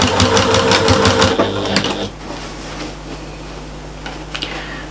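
A sewing machine stitches straight across the bottom corners of a quilted shopper bag, running loud and fast for about two seconds before stopping, followed by a low steady hum and a few faint clicks.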